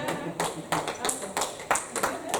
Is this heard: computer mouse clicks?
no